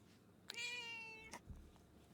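A cat named Goose lets out one clear, rising-then-falling meow close by in a quiet room, followed by a soft thump.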